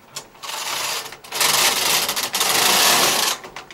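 Bond knitting machine carriage sliding across the bed during e-wrap casting on, a loud close mechanical rasping whir in sustained passes with brief gaps between strokes, no speech.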